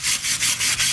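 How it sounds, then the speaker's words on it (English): Wire brush scrubbing freshly welded steel on a Jeep JK front axle, a close, steady rasping scrape in repeated strokes about every fifth of a second, with no voices. "actually cleaning up some of the welds with the wire brush"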